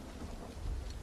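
Rumbling thunder with steady rain in the video game Final Fantasy VII Rebirth, a low continuous roll swelling slightly toward the end over a dense wash of rainfall, with no talking.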